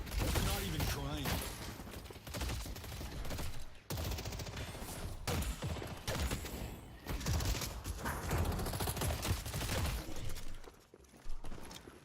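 Dense video-game gunfire shooting at creeps in an online match, bursts of rapid shots and crunching impacts that fill the soundscape almost continuously, with brief drops between volleys and some voice chat mixed in.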